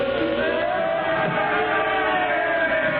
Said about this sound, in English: The crowd, they're yelling something at...